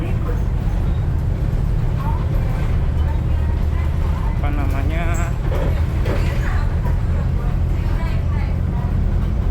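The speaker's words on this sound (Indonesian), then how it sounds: "di sini berisik nih, gelodak-gelodak" Loud, constant rumble of a moving Trans Semanggi bus interior with rattling and droning engine noise, while people talk under it.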